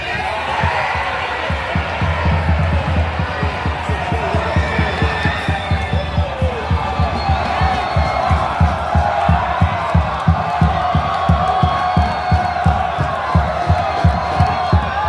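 Parnaíba football supporters fill a stadium with loud, continuous crowd noise, chanting and cheering with steady rhythmic clapping or drumming beats throughout, a large mass of voices close and echoing after their team's fourth goal.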